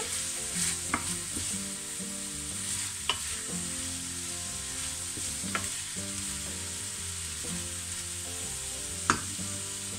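Endives fry in a pan with a constant sizzle while a utensil stirs them, giving occasional scraping knocks against the pan; no talking.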